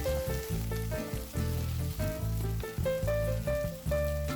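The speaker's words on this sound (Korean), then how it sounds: "약불에서 천천히 볶아야 양파의 자연스러운 단맛이 잘 올라옵니다." Onions sizzle steadily in a hot pan over low heat, with a soft crackling fry continuing throughout and occasional stirring.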